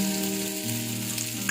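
Ground ginger-onion paste hits hot oil in a mustard seed tempering, giving a close, steady, even sizzle that fills the whole short moment with no talking.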